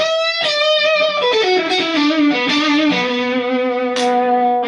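An electric guitar played through its single coil pickup setting: a sequence of bright, sustained single notes sliding downward, clear and loud with a slightly effected tone, no talk.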